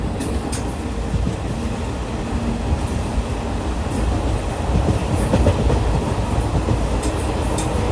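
A Thiruvananthapuram to Kozhikode Jan Shatabdi Express runs along the tracks with a loud, continuous rumble and rhythmic wheel clatter, steady throughout and with no voices.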